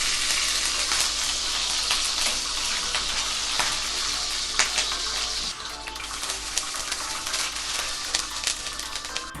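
Ghee heats in a pan for mutton nihari, giving off a continuous, even frying hiss with faint crackles that persists without pause.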